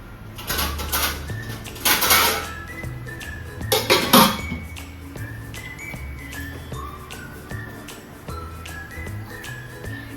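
A lid is set onto a cooking pot of meat curry, giving a couple of clattering metallic clinks near the start and middle over a steady kitchen background with faint whistling, bird-like tones.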